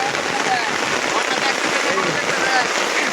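Steady rain falls and patters on surfaces during a flash flood near the India–Bangladesh border, where people are out fishing from a boat; the dense, even hiss fills the background continuously without pause.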